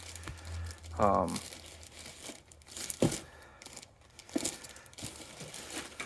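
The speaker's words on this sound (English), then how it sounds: "let me just unwrap some of this quick" Plastic packaging crinkles and tears as a pristine new-old-stock Hondaline plastic panel for a 1983 Honda Magna V45 sissy bar kit is unwrapped, with bursts of crackling close up and a person speaking in between.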